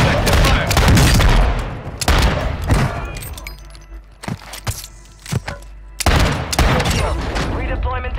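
Gunfire in Call of Duty on Ashika Island: loud bursts of rapid automatic shots and booming impacts, separated by quieter stretches with scattered single shots, close to the player.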